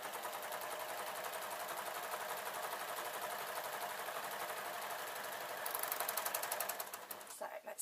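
An overlocker serger sewing machine stitches a Christmas stocking, its dense, rapid mechanical whirr running steadily and close up, speeding to a brighter rattle near the end before stopping abruptly.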